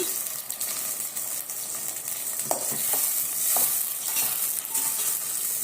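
Tomato paste sautés in a hot oiled pan for brinjal kara kuzhambu, giving a steady loud sizzle broken by a few sharp stirring scrapes, with no voices.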